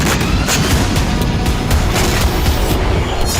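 Iranian air defense interceptions explode in the night sky, a loud, dense barrage of overlapping booms and crackling bursts rolling continuously without a break.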